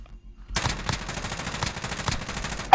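Video game gunfire in a multiplayer match rattles out in rapid, loud bursts, a cluster of sharp cracks repeating over a couple of seconds, with no talking.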